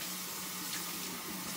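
Cold tap water runs steadily into a sink during hand and face washing, a continuous close hiss of splashing flow with no talk over it.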